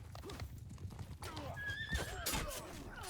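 Horse hooves clip-clopping at a gallop and a horse neighing with rising whinny calls, amid medieval battle noise in a Sturgia versus Vlandia clash in a video game, fairly faint and steady throughout.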